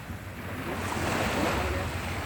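Sea waves wash onto a beach in a steady, broadband roar of surf, swelling slightly louder midway, with wind noise buffeting the microphone throughout and no voices.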